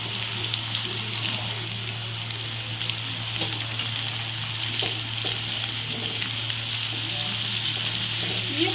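Potatoes sizzle and fry with onions in a pan for a Bengali-style chira pulao, a steady, close hiss with soft crackles and faint stirring scrapes running the whole time, with no voices.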